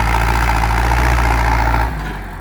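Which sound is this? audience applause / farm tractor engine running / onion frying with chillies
farm tractor engine running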